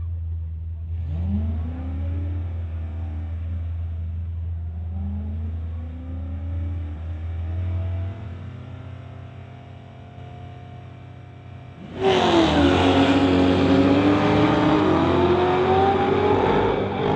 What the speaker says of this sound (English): Both drivers wearing green lights, but the Corvette having trouble shifting up through the gears.